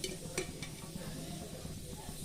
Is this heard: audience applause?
no